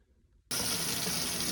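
Warm tap water suddenly gushes on into a sink to thaw chicken, starting abruptly after a brief quiet moment and then running steadily and loudly.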